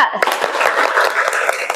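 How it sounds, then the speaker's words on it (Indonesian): Group of students clapping together in a counted classroom rhythm during a teaching session in Indonesia, sharp claps in quick sets that repeat steadily through the clip, close and loud, with a voice calling the count over them. "Sekali lagi, tepuk 1, tepuk 2, tepuk 3."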